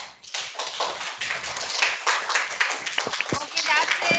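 Students in a class quiz clap for a classmate after a correct answer, a dense patter of hand claps lasting several seconds under scattered voices.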